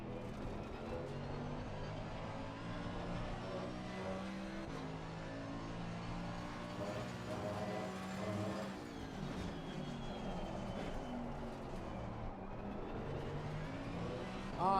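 Race car engines in the racing game Assetto Corsa Competizione, a continuous loud roar with shifting revs and gear changes as the cars accelerate and brake, steady throughout.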